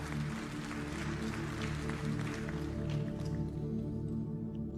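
Members of a church congregation applaud in a thick, even wash of clapping with sustained musical tones beneath. The applause thins out and fades near the end.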